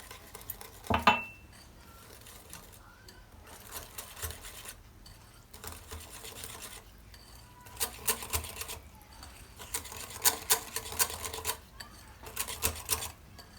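A spoon or whisk clinks and scrapes against a bowl in bursts as chocolate cake batter is mixed with added water, a quiet irregular rhythm of tapping strokes with pauses.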